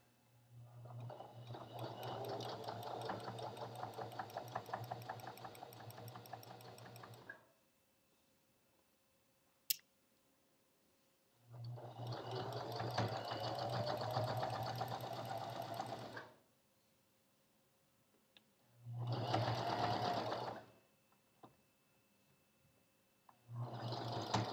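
A sewing machine stitches a fabric bowl cozy, running in three long bursts of steady rapid stitching with short pauses between, then a brief final start near the end.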